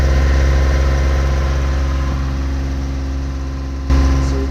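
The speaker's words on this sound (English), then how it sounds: "So the engine is definitely running a lot better now." A boat engine, running better after repair work, idles with a steady, loud, low-pitched throb and a slight lift in level near the end; no one speaks.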